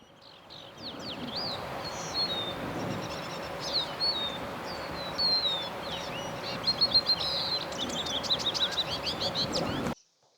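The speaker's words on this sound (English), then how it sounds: "He's filming lesser goldfinch." Lesser goldfinch calls from the tree canopy along the Pacific Crest Trail during nesting season: repeated thin, high chirps and twittering phrases, moderately close, over a soft outdoor hiss, growing busier toward the end before stopping abruptly.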